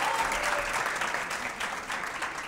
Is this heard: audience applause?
yes